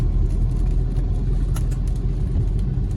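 Night road traffic in Coimbatore makes a dense, steady low rumble of car engines and tyres, loud and continuous throughout with no clear breaks.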